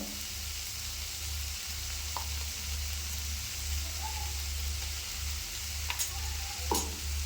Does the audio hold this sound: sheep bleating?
no